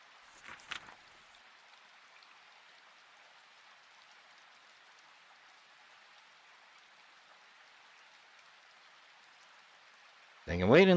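Steady, soft rain hisses through a horror video game scene, a constant wash of droplets at moderate distance, opening with a brief knock and ending on a sudden louder burst of sound.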